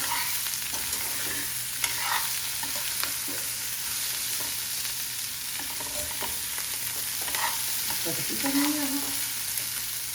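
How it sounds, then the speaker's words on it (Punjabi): Chopped onions fry in a pan for a fennel-spiced okra dish, giving a steady, close sizzle with occasional spatula scrapes and stirring sounds throughout. "ਲੋ ਪਿਆਜ਼ ਭੁੰਨ ਲੈਣੇ ਚੰਗੀ ਤਰ੍ਹਾਂ"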